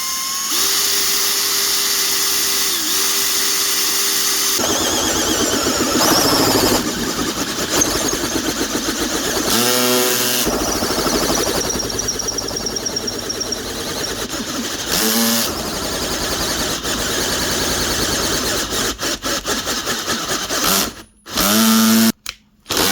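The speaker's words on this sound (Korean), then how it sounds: "서클 커터로 이제 NDF 합판을 한번 뚫어 볼게요" An electric circle cutter bores a hole through an MDF plywood board, a loud, continuous whining drone with grinding changes in pitch and brief pauses, close up and sustained for over twenty seconds.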